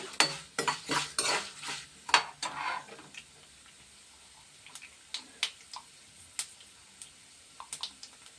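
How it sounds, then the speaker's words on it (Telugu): Cumin and other whole spices tempering in hot oil in a pan: sharp crackles and pops bunch together early, then thin out to scattered single snaps with quiet gaps between them. "పోపులు వేగితేనే బాగుంటాయండి."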